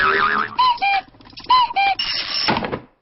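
A cartoon cuckoo clock calls in clear repeated two-note whistled pairs, near and bright, with short pauses between calls and no talk over it.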